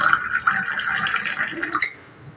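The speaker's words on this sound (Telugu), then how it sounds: "గోరువెచ్చని నీళ్ళు," Lukewarm water poured into a cup while an immunity-boosting drink is prepared, a close, steady liquid stream for about two seconds that then stops abruptly.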